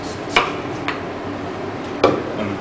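A knife slicing vegetables on a cutting board for a salad, a few sharp separate knocks spaced irregularly against quiet background, close and fairly loud with no talk.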